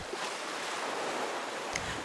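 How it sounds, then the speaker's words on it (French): Ocean waves breaking on a beach, a soft steady wash of surf with a faint swell near the end, heard alone without voices. "Le ressac des vagues, régulier,"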